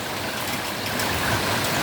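Steady rain falls outside an apartment in Lào Cai, Vietnam, a dense, even hiss of drops with no breaks, fairly loud and close throughout.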